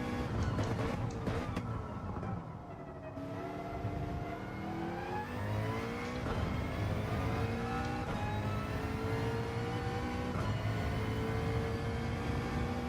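A race car engine in a sim racing game at Sebring revs and shifts continuously, rising and falling pitch with gear changes, loud and steady throughout with no talk.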